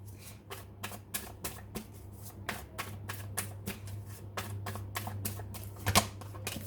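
Tarot cards being shuffled by hand in a steady run of crisp riffling flicks and soft slaps, close and fairly quiet over a constant low electrical hum, with a louder burst near the end.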